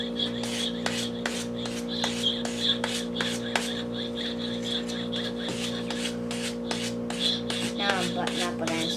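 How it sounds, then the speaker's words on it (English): A hand saw cutting a small block of pinewood derby car wood, a steady rasping back-and-forth with regular strokes close by, over a constant low hum and brief murmured talk. "I'm gonna cut on the notch"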